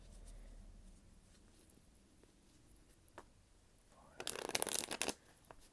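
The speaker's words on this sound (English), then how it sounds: "So, we'll go ahead and shuffle up." Tarot cards are shuffled: faint soft handling at first, then a louder burst of riffling and slapping card noise near the end, with a few light taps in between.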